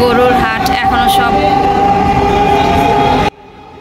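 A Dhaka metro rail train runs above the Diabari cattle market area with a loud, continuous rumble and a sustained tonal whine, then cuts off abruptly into near silence just before the end.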